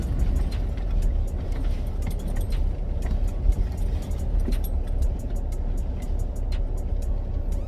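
A 2019 Ford Ranger Wildtrak pickup truck driving, its low steady engine and road rumble filling the cabin, with faint light clinking like keys jangling on top and no talking.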